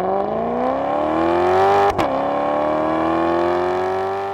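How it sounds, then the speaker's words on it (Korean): A Maserati engine revs up with a smooth rising exhaust note, loud and close, briefly breaks at the top, then settles into a steady sustained tone. "이 배기음은 마세라티 엔진 사운드 디자이너와 튜닝 전문가, 피아니스트, 작곡가가 모여 만들어낸 아름다운 하모니로 유명하죠"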